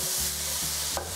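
Paneer, a fresh homemade cheese, sizzles steadily in a pan with spices while a utensil stirs it in a few scraping strokes, a close and continuous frying hiss with no voices.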